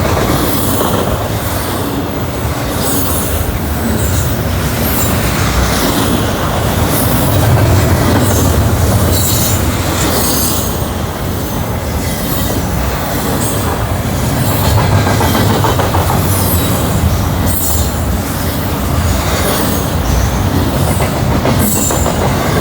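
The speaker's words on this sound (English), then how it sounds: "Woo, that train's booking." A train rumbles past close by for over twenty seconds, loud and continuous, with rhythmic clattering of wheels over rail joints and occasional squeals.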